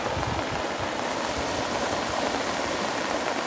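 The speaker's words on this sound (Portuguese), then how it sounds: "Muita água descendo aqui para o açude de Santo Antônio aqui, ó." Rain-swollen river water in São Sebastião do Umbuzeiro rushes steadily toward the Santo Antônio reservoir, a loud, continuous broadband roar with no voices.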